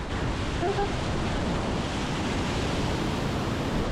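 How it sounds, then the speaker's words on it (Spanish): Angel Falls in Venezuela, the world's tallest waterfall, roars with mist falling from the cascade: a constant broad rushing wash of water, steady and enveloping, with some wind buffeting and no clear speech. "¡Vean la fuerza del agua allá atrás!"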